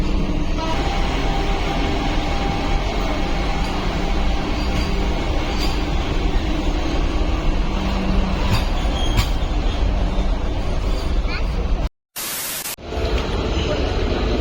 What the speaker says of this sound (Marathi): आली आली ट्रेन डब्ल्यू ए पी सेवन आपली ट्रेन आली आहे फायनली